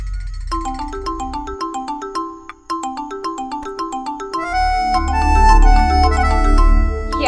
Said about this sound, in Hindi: इतनी रात को किसका फोन?